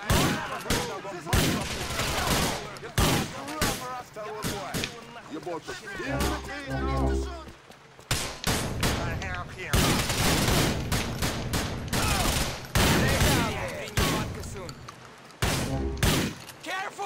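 Gunfire in GTA IV, with repeated loud bursts of shots and clattering volleys spread through the scene, mixed with game effects and wet-road driving noise, while a voice talks over parts of it.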